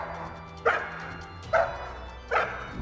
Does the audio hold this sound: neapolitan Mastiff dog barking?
yes